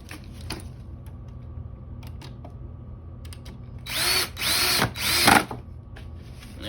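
A power drill drives long screws into a TV stand during assembly in three short, loud whirring bursts close by, after a stretch of quiet handling noise.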